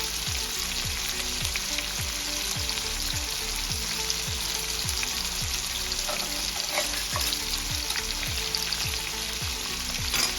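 A ribeye steak pan-searing in garlic butter gives a loud, steady sizzle throughout, with a regular series of soft low thumps running beneath the hiss.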